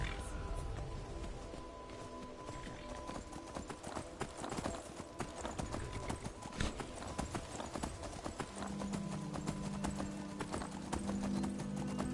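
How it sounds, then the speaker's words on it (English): Horse hooves clip-clopping in the video game Skyrim, a steady run of close, distinct hoof strikes on hard ground with brief spoken lines and background game music. "Hey, this is my horse."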